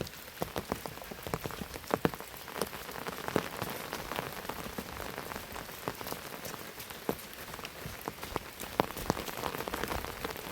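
Steady rain falls on a village at the edge of a jungle, a dense continuous hiss with scattered louder drops pattering close by on surfaces, with no voices.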